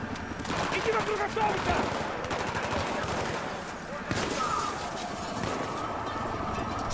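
Gunfire in Battlefield 3, a dense, continuous stream of loud shots with bursts running through the whole stretch, mixed with game noise and a voice talking over it.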